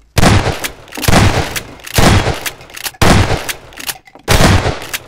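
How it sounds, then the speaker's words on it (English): Double-barrel shotgun blasts in the Prop Hunt video game: five loud, booming shots spaced roughly a second apart, each with a short decaying tail, close and with no talk over them. "That double barrel secondary fire thing saved me."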